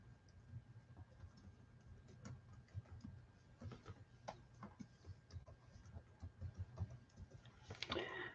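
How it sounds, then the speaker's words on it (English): Computer keyboard typing an email address indoors: faint, close, irregular key clicks in short bursts over quiet room noise. "Let me type my email in."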